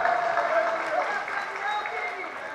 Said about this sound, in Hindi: ये सभी जो तालियां जो बज रही है